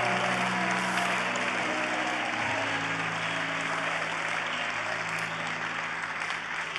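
A church congregation applauds at a conference service in Australia, a steady, moderately distant wash of clapping over a low hum, without speech.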